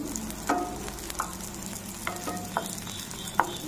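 Potatoes frying in a little oil for a Bengali-style fish curry, with a soft continuous sizzle broken by several close scrapes and taps of a spatula stirring in the pan, no voices.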